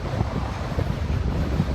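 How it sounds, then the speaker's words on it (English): Strong wind on the Channel Islands coast, a steady, loud buffeting roar and low rumble against the microphone that lasts the whole moment without letting up, with no voices. "I think these winds are going to carry me into the ocean"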